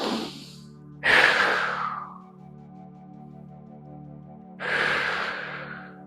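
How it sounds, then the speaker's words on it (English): Two long, audible breaths during a yoga flow, each a strong airy rush that fades slowly, separated by a quiet pause over a faint steady background hum. "Breathe here, in and out."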